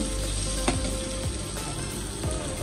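Pumpkin and onion fritter mixture with coriander leaves fries in a karahi with a loud, continuous close sizzle, broken by a few soft stirring scrapes.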